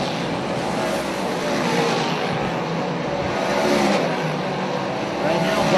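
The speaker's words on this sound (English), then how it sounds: "Good pace being set here by the Berger car." Race cars roar around a track during a memorial race, with a loud, continuous engine wash that swells and fades as the cars pass, heard under steady commentary.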